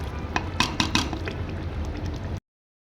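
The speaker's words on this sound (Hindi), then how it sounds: "ये देखिए माशाल्लाह से मुझे भूनते हुए 10 मिनट हो चुके हैं। इसको मज़ीद मैं 10 मिनट और भूनूंगी।" Mutton curry for a malai handi being stir-fried in a pot, with a spoon scraping and clinking against the metal in a few sharp knocks over a low simmering bubble, close up, ending abruptly.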